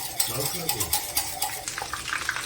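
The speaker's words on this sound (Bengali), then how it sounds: "তেলের ভেতরে শুকনো লঙ্কা, তেজপাতা, দারচিনি, লবঙ্গ সব ফোড়ন দেওয়া হবে।" Dried red chillies, bay leaf, cinnamon and cloves temper in hot oil, with a close crackling sizzle mixed with busy stirring and light utensil clinks over a short stretch.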